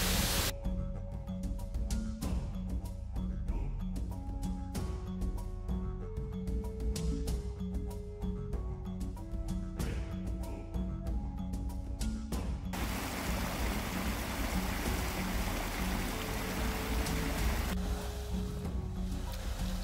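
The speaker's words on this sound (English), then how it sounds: "What do you think of the Fairy Falls, Catfish?" Fairy Falls, a waterfall on a hiking trail near thermal features, roars as a steady, dense wash of water noise, with a brighter, harsher stretch partway through and a low musical drone running underneath.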